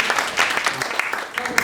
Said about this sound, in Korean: 그럼 큰 박수로.